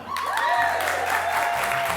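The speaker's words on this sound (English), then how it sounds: "Go ahead, applaud." Audience applause at a live comedy show, a steady wash of clapping held at an even level for about two seconds with no voices over it.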